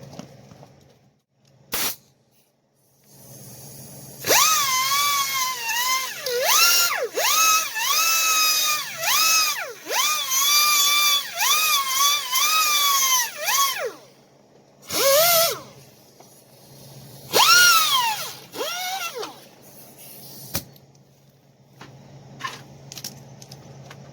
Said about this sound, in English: I'll grab a grinder and hopefully flatten that edge a little bit